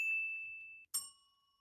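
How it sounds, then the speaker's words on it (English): A small hand bell, newly acquired, rings twice in close succession: a sustained bright ding that fades, then a sharper second strike whose tones ring on and decay, heard alone without talking. "I got my own bell now, which is sick."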